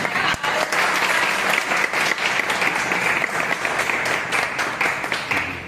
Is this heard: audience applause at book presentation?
yes